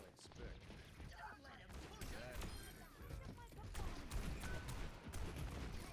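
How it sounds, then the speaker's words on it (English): Dense, sustained gunfire in the Overwatch video game, with rapid overlapping shots and mechanical clatter in a busy firefight. It is loud and continuous from start to finish. "Shooting."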